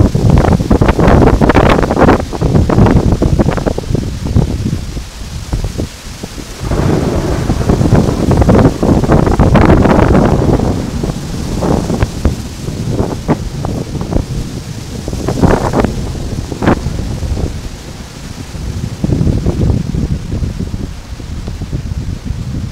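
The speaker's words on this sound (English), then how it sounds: "Those big gusts are coming." Strong wind gusts roar loudly against the microphone during a hard rainstorm, surging and easing in waves, with rain and rustling mixed into the constant buffeting.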